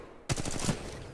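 The LMG light machine gun in Titanfall 2 opens up abruptly after a short quiet moment, spitting a fast, dense string of loud, close shots that keeps rattling until the end.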